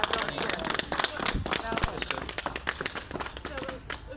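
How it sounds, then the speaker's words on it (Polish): A crowd gives dense, sustained applause for Szymon after a military court verdict, the clapping loud and close, with voices talking over it throughout. "Brawa do Szymona, słuchajcie. Duże brawa"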